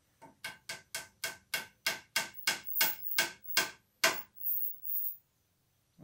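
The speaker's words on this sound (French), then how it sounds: "Un petit marteau." A small hammer taps wooden dowels into a glued frame with about fourteen sharp, evenly spaced knocks that come faster and then slow near the end, close and clear in a quiet room.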